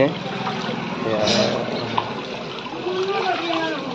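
Water pours from a stone spout at a temple site in Odisha, a steady trickling splash running under nearby talking voices throughout.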